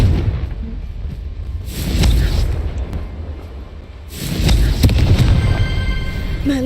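Fiery spell blasts from the Confringo curse in Hogwarts Legacy, two loud rumbling booms with crackling bursts, close and forceful, rising and fading over a few seconds.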